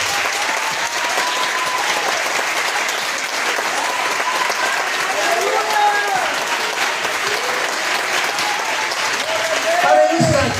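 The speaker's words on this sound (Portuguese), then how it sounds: "eu quero que você dê uma salva de palmas" Church congregation applauding during a worship service, steady dense clapping throughout at moderate loudness, with a voice talking over it.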